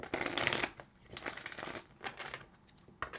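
Tarot cards being shuffled by hand in a few quick riffling bursts, close and fairly quiet, with brief pauses between the crisp papery flurries and no talk.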